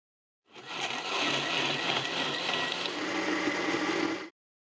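A blender grinds cooked, softened tomatoes into purée for homemade ketchup, a steady loud whir that starts abruptly, holds evenly for about four seconds and cuts off cleanly, with no talking.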